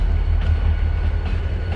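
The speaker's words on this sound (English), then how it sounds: "Another train." A freight train rolls past in Montana, a steady low rumble with faint rhythmic wheel clatter that holds at an even, fairly loud level throughout.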